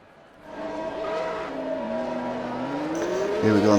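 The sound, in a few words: racing cars on formation lap in F1 2021 video game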